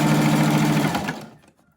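A sewing machine stitches a seam on a homemade fabric protective mask with elastic, running in a fast, steady whir at close range before slowing and stopping into near silence.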